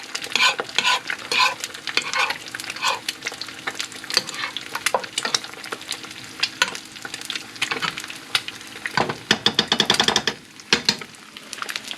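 Tortillas shallow fry for homemade chilaquiles with a close, crackling sizzle broken by frequent sharp stirring and scraping clatters in the pan, and no speech.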